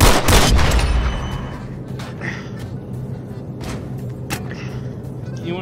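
Gunfire in a VR video game: a loud cluster of sharp shots at the start, then scattered single cracks and bursts over a steady rumbling background.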